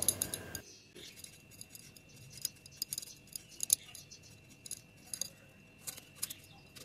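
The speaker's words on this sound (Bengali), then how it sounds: "তো চলো আলু আর পেঁপেটা কেটে নিই তাড়াতাড়ি করে।" Potatoes and papaya are cut by hand, a series of faint irregular crisp snips and clicks against a quiet room with a steady high tone, each cut short and close.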